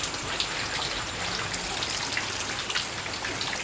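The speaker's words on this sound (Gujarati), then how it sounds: "કેવો વરસાદ વરસે" Morning monsoon rain falls steadily, an even close hiss with scattered drip patter and no pauses, with no one talking.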